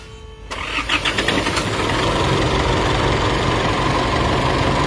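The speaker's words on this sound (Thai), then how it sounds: "อ่ะ สตาร์ทเครื่องเลย ให้ฟังเสียงนะ สตาร์ทเลย" An engine with a fault that lets compression leak into the crankcase and causes smoke cranks briefly, catches, then settles into a loud, steady idle that fills the rest of the clip, heard close up with no talking.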